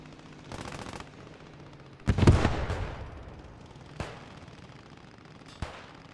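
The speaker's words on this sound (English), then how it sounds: "Three cannons firing onto the infantry now." Cannons and gunfire in the Post Scriptum war game, with distant rattling shots early on, then a heavy cannon blast with a long rumbling tail and two sharper reports later, each loud and echoing.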